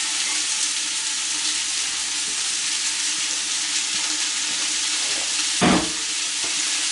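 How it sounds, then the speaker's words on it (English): Onions and celery saute in hot bacon grease, a loud, even, continuous sizzle close by, with one brief louder burst near the end. "We're using bacon grease today to saute with."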